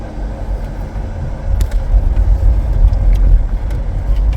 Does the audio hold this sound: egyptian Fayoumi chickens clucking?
no